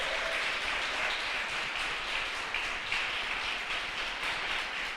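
A church congregation applauds during a Portuguese-language sermon, a steady, distant wash of clapping that holds evenly throughout without talk.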